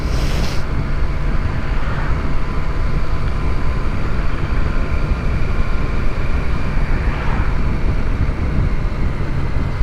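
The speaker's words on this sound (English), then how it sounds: "So good, this engine." Engine of a motorbike or car droning steadily on a ride over Woodhead Pass, a constant loud hum with road and wind noise throughout and no talking.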